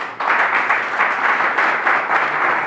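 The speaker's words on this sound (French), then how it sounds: "j'aimerais que vous applaudissiez" An audience at an Ivorian community assembly in Sousse, Tunisia applauds with loud, steady, dense clapping that holds evenly throughout without any voices over it.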